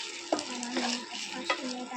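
Rice frying gently over low heat for pulao, a soft sizzle with a few distinct stirring scrapes and clinks close by.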